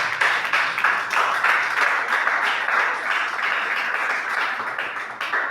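A church congregation applauds during a worship service, a dense, steady wash of many hands clapping that fills the room at a fairly even level from start to finish, with no talk standing out above it.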